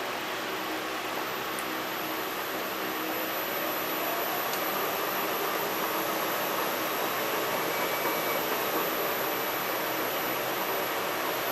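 A wood lathe spins a mesquite burl bowl blank, giving a steady broadband whir with a high whine, continuous and even for the whole stretch, with no one talking.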